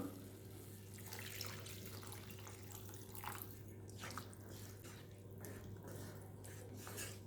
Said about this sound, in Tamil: இப்போ நம்ம தண்ணியை ஆட் பண்ணிக்கலாம்